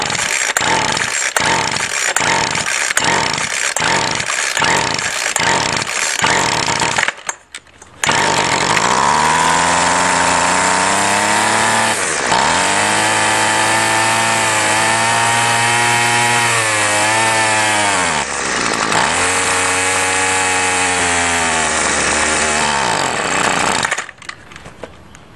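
A gas string trimmer with a suspected plug-type carburetor sputters through a series of rhythmic pulls and brief catches, then fires up and runs loud and close, its high engine whine rising and dipping with the throttle before cutting out.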